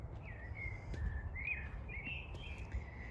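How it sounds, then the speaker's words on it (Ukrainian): Birds chirp and warble softly in the background of a Kyiv park at Singing Field, a few thin calls repeating over a steady low outdoor rumble. "Ви чуєте, як співають пташечки."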